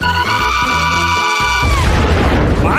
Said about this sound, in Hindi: ऐसा लगता है कि एक कैंडी बम था